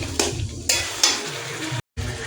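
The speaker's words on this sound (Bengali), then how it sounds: "মাটনটা দিয়ে দিয়েছি, মাটনটা কষবো 20-25 মিনিট ধরে।" Mutton being stir-fried into kosha in a hot pan sizzles loudly up close, with several scraping stir strokes and light metal clinks, then a brief silent gap before the frying resumes.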